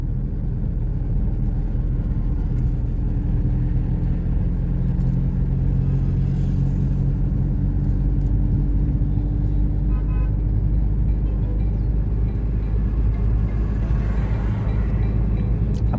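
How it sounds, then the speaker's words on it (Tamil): A small car drives on the road during a driving lesson, its engine giving a steady, close rumbling drone from start to finish with no talking. "ரோடு ஃப்ரீயாக இருந்தால் கொஞ்சம் ஆக்சிலேட்டர் கொடுத்து போகலாம்"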